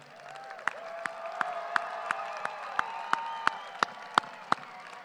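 Audience applause at a high school graduation swells into a steady wash of clapping with a few distinct louder claps standing out, and faint cheering mixed in.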